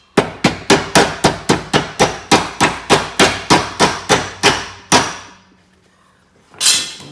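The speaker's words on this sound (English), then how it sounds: "Tap the pin back in." Steel hammer tapping a retaining pin back into a Massey Ferguson 2320 mower deck wheel, about eighteen sharp, evenly paced metallic strikes close by, then a pause and one last blow.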